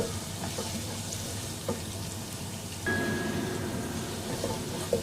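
Garlic and ginger frying in a pan for urad dal, with a soft, continuous sizzle that jumps a little louder midway and carries occasional light stirring clicks, no talking.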